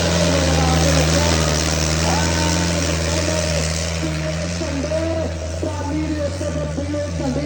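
A tractor engine runs steadily at low pitch throughout a tractor competition, with a constant droning hum and a loud voice talking over it.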